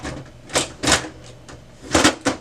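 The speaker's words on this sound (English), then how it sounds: "Once you hear it click in the printer" A toner cartridge snapping into place in a Brother HL-L5200DW laser printer, heard as a few sharp plastic clicks and clunks spread over a couple of seconds, close and moderately loud with no talk.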